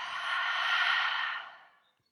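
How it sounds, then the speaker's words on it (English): One long, deep exhale breathed out through the mouth at the end of a live yoga class, a close, airy whoosh lasting under two seconds that swells and then fades into silence. "fully breathing out through your mouth"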